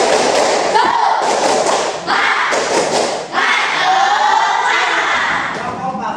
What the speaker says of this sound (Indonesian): Ada tepuk semangat terlebih dahulu.